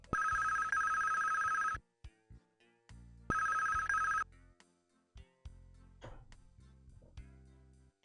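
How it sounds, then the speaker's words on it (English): A telephone rings in the Police Quest 1 video game, two long synthesized electronic ring bursts separated by a pause, followed by sparse game beeps and blips, loud and alone. "And there's the phone call."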